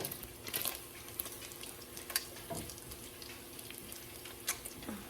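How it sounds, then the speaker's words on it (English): Bacon frying in a pan, a faint, continuous sizzle with small crackling pops and occasional clinks, heard alone without talk. "my bacon is cooking up nicely"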